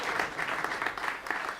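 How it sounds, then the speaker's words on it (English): An audience at a charity concert applauds in a brief, moderately faint burst of steady clapping. "You can applaud anytime if you want."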